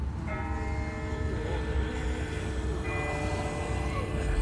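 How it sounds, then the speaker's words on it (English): A bell tolls from far off in The Walking Dead video game, its sustained ringing tones layered over a low rumbling background and holding steadily across the whole stretch. "That's not the same bell as before. This one's further off."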